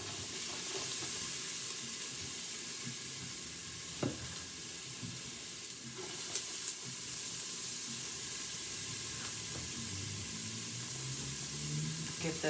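Onions sizzling in a tablespoon of olive oil in an Instant Pot, a steady, soft frying hiss running throughout with occasional light clatter from stirring.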